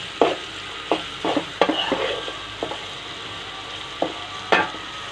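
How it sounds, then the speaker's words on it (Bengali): Shrimp stirred and frying in a pan with turmeric, spatula scrapes and stirs landing in irregular bursts over a steady close sizzle. "এবার আমি ইসা মাছটাকে ভালো করে কষিয়ে নেব।"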